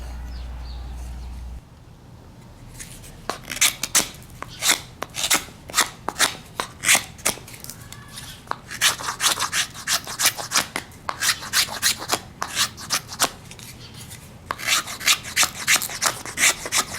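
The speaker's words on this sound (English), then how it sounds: "start carving it down to resemble a 2x4" A knife carves palm branch wood in a series of rapid, scraping strokes, close up, with brief pauses between bursts of shaving.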